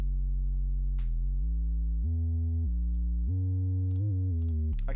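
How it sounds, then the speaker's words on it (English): Deep sub bass synth from Massive layered with a real bass guitar, playing sustained low notes that step up and down in pitch with a few faint clicks, heard alone for about five seconds. "It's this really subby bass, again off Massive, layered with the real bass."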